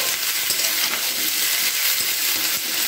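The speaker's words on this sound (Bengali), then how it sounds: "সবজিগুলোকে বেশ কিছুক্ষণ আমি ভালো করে নাড়াচাড়া করে নিয়েছি" Mixed vegetables fry in a pan while being stirred, producing a continuous, close, dense sizzle with faint scraping and no voices.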